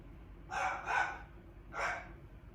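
An indoor dog lets out three sharp barks, two close together and then one after a short pause, at moderate volume over a quiet room.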